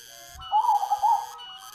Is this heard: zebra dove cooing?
yes